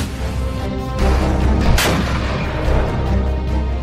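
A Russian tank fires at Ukrainian soldiers, its cannon blast booming loud and close over constant rumbling battlefield noise, with a sharp report at the peak followed by a rolling tail.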